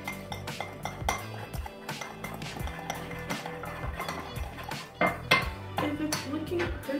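Spoon clinking and scraping against a bowl while chocolate, sugar and milk are stirred together for homemade sweets, with steady clatter and occasional sharper taps, close and busy, with no talk.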